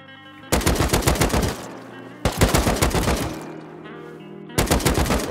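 Bursts of rapid automatic AK assault rifle fire in the game Rust, three loud close volleys separated by short pauses, each a fast string of sharp shots.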